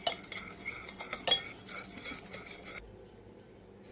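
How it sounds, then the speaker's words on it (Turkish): Tomato paste sauce with salt and water is stirred in a bowl, heard as a quick run of close, clinking spoon scrapes against the container for a few seconds before falling almost silent. "Karıştırıyoruz."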